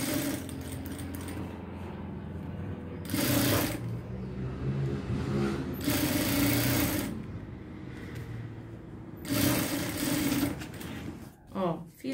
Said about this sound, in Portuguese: E vou passar uma costura